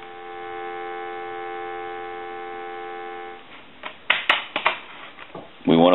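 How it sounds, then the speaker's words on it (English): Steady dial tone from a Sitel Italian telephone, a clean continuous hum for about three seconds, followed by close handling clicks and knocks as the handset and cord are moved. "Give you some dial tone."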